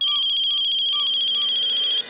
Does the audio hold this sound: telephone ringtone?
yes